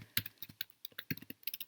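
Quick, light keystrokes on a computer keyboard, close and fairly quiet, in an irregular run with no talk.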